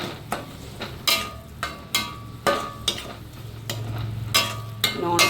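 Tomato-based chicken curry base sizzling in a thick iron pan as a spoon stirs it, with a continuous frying hiss and about a dozen sharp, rhythmic scrapes and clacks against the pan, close up.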